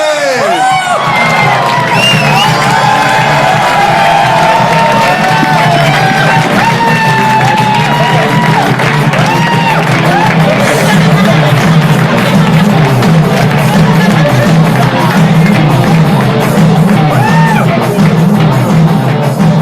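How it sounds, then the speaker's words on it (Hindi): A loud live studio crowd on a comedy talent show cheers, whoops and shouts continuously as two guests are welcomed onto the stage, with applause filling the whole stretch. "Please welcome on stage with a huge round of applause Mahip Singh and Pratyush Choubey."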